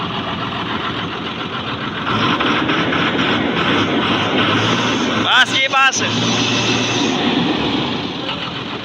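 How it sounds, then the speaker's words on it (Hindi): German six-cylinder tractor engine running just after starting, a loud, steady rumbling idle with a brief squeaky mechanical burst midway and people talking over it. "स्टार्ट हो गया ट्रैक्टर"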